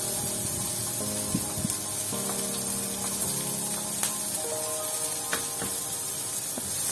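Onion frying in oil alongside chicken in a pan gives a steady, close sizzling hiss throughout, with faint clinks of utensils scattered through the sizzle.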